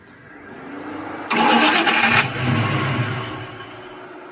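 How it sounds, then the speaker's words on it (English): A 347 stroker coupe cranks and fires into a loud, close engine start with a quick rev before settling toward a rough idle, run without its idle air control. "we're gonna start the car up without the idle air control just to verify"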